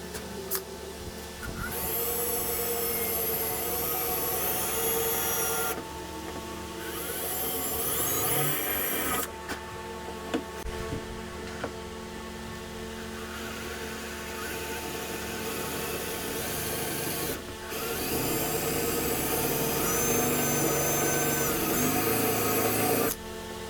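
A power drill boring a pilot hole, using a drill bit with a stop, while a roof rack is installed on a Ford Ranger Tremor. The motor whines loud and steady, with several bursts interrupted by brief pauses.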